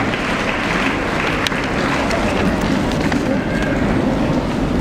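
An audience at a graduates' ceremony of a Tamil Nadu Muslim graduates' association claps in a continuous, dense wash of applause, steady and fairly loud throughout, with no voices standing out.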